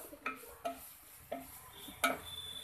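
A spoon stirs grated carrot in ghee in a pan over a low flame while carrot halwa is being made, giving faint, sparse scrapes and taps, four or five light strokes spaced irregularly over a quiet background.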